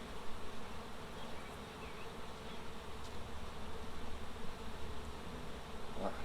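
Honeybees humming in an open backyard hive as a dense, continuous buzz close by, with individual bees flying past through the steady drone.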